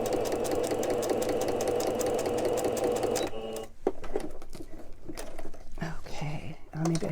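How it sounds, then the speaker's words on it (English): A sewing machine runs a steady, continuous straight stitch along the edge of a scrap-fabric notepad cover, loud and close, then stops and gives way to softer handling noises and faint speech. "I'm simply using a straight stitch around the edge"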